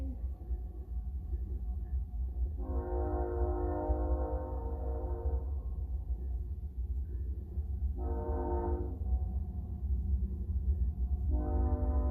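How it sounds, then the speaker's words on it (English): A train passes outside, its horn sounding three times, one long blast followed by two shorter ones, over a steady low rumble of the rails throughout. "Oh, we got a train."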